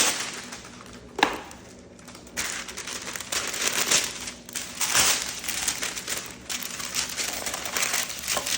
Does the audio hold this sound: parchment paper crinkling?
yes